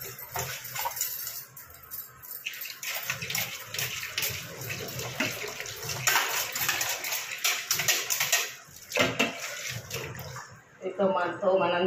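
Clothes being washed and wrung by hand in a bucket of water produce repeated splashing, sloshing and dripping up close, with intermittent bursts of pouring water; a voice speaks briefly amid the washing.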